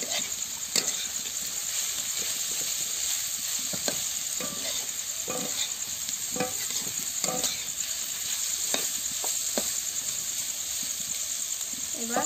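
Bitter gourd pieces frying in a pan for a village-style egg curry, a steady loud sizzle running throughout with repeated scraping clicks of stirring.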